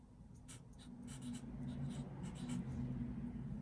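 Pen or pencil writing by hand on paper, with soft, close scratchy strokes that come in short bursts, under a faint low background hum.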